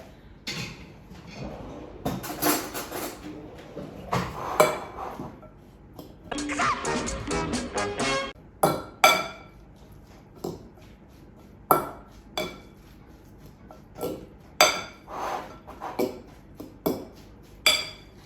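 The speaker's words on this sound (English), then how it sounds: "I like to use a fork for this part rather than a spoon. I find it's better to mash the chickpeas with." A fork mashes chickpeas in a bowl for a vegan chickpea salad, giving irregular close clinks, scrapes and knocks of metal on the dish in uneven bursts, with quiet gaps between, and no speech.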